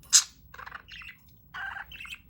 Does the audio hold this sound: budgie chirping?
yes